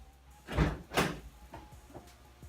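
The door of a 1991 Toyota MR2 hardtop: two solid close thumps about half a second apart, followed by fainter clicks and latch rattles, fairly quiet.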